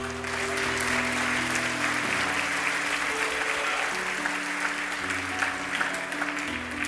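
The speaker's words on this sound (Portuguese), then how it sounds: "Aplauda Jesus por isso." A church congregation applauds steadily throughout, with sustained tones of instruments or organ under the clapping.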